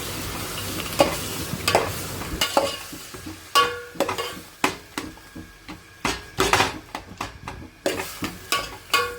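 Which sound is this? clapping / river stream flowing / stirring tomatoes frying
stirring tomatoes frying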